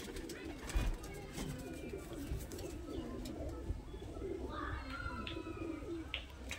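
A big-sized pigeon gives soft, low repeated coos close by, partly under someone speaking over them.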